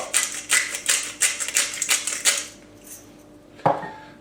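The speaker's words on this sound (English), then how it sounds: "Just stir that through." A spoon scrapes and clinks rhythmically against a metal pot of potato and leek soup for a couple of seconds, then stops, followed by one sharper knock.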